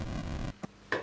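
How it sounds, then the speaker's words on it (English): Noise channel of the FamiSynth 8-bit synthesizer, a burst of harsh, gritty retro static lasting about half a second, then stopping, leaving faint background with a couple of brief soft knocks. "So those are the 4 waves and a noise generator which sounds like this."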